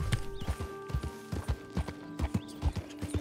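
Horse hooves clip-clop at a steady walking pace in Red Dead Redemption 2, a run of close, evenly spaced thuds over a low game ambience, with a brief whinny-like tone in the background.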